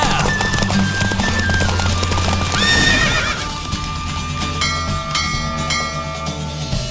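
Horse hooves clip-clop rapidly in a steady gallop during a horse race in The Witcher 3: Wild Hunt, with loud neighing and whinnying over a constant musical backdrop, close and prominent throughout.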